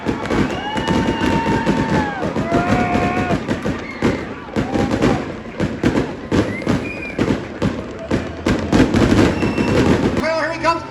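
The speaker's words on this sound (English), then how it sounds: "From the school bus comes the fireworks." Fireworks shooting from a school bus at a demolition derby, dense crackling bursts and pops in rapid succession over crowd noise and excited voices, loud and sustained.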